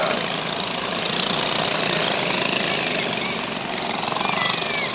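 Small 5-horsepower go-kart engines in a holiday parade buzz and rattle loudly and continuously, a rough, knocking drone that swells slightly and then eases off.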